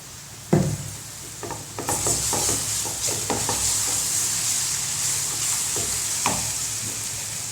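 Ground garlic paste sizzles in a pan of hot oil while cooking garlic thokku, a South Indian relish, a steady broadband frying hiss with occasional scrapes and clicks of a stirring spoon, close and continuous with no talking.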